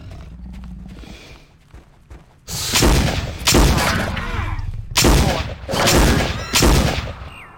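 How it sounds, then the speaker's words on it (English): Stun weapon shots in the video game Jurassic Park: Trespasser: after a quiet stretch, five loud, sharp blasts ring out one after another, each with a short decaying tail. "I think I shot just one more time than I should have"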